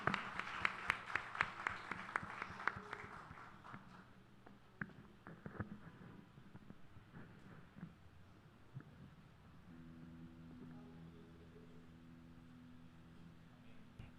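A church congregation claps in a quick burst of sharp, close applause that thins out into a few scattered claps, leaving a low hum behind.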